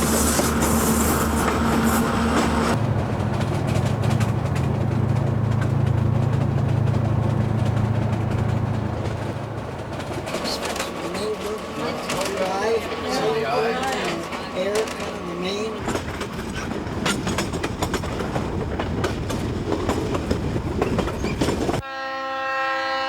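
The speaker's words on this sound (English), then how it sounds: "the train arrives at Divisadero" A passenger train, the Sierra Madre Express, runs along the rails through Mexico's Copper Canyon toward Divisadero, with a steady low rumble and rattle, a sustained horn-like tone near the start, and scattered bird calls and faint voices over the rolling.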